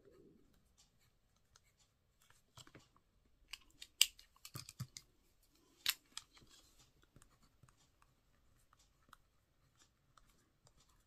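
Pen writing on paper, faint scratchy strokes and taps in short irregular bursts, close up in a quiet room.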